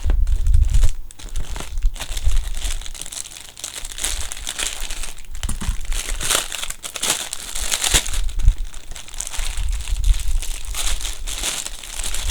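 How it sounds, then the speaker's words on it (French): Crinkling and crumpling of packaging with occasional tearing and crunching, close and continuous, as a package is cut open with scissors and pulled open. "Bon, c'est pareil, je vais prendre des ciseaux."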